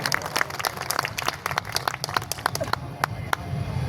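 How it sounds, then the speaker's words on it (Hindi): A crowd at a Kavi Sammelan poetry gathering claps loudly, a dense stream of sharp hand claps sustained for several seconds, close and continuous with a murmur of voices underneath. "जरा हाथ दोनों उठाइए और जोरदार ताली बजाइए"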